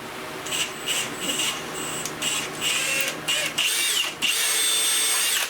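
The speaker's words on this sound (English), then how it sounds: "And I'll drill this out a little bit." A high-pitched drill whines close by in several bursts, pausing briefly between runs, with a grinding edge as it bites into metal of a commercial mower blade assembly.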